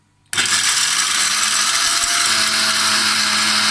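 A mixer grinder whirs into action on cashew nuts, starting abruptly after a brief silence and then running as a loud, steady, close-up grinding roar with a rattling mechanical edge.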